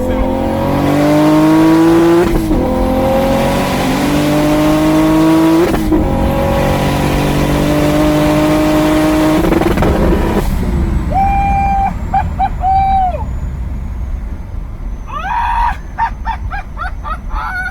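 A 715 whp single-turbo N54 BMW 335i with a Precision 6766 turbo accelerates hard through several gears, engine pitch climbing repeatedly with sharp shift breaks, loud and close, ending in quieter turbo flutter and revving bursts.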